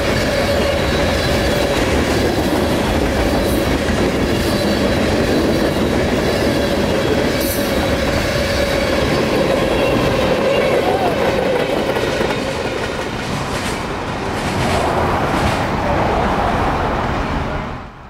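A 10,000-foot freight train pulled by a multi-locomotive set rolls over the switch at South End Dade City, Florida, a loud, sustained rumble with rhythmic wheel clatter and a pounding that eases slightly near the end.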